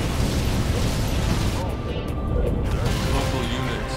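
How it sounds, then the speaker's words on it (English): A disruption bomb detonates in a video game battle, a loud, broad roaring blast that fills the whole clip and rumbles on without a break, with a voice faintly present underneath. "Disruption bomb out."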